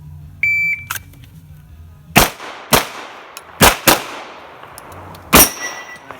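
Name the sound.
gunshots hitting steel targets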